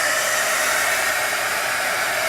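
A hair dryer blowing steadily on homemade washi tape, a loud, constant whooshing roar close by that holds without a break.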